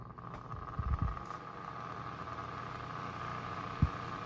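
A 2002 Holmes HAOF720 desk fan running on speed 2 with a rattle: a steady motor hum with a constant whirring tone, and a couple of short rattling knocks near the start and again toward the end.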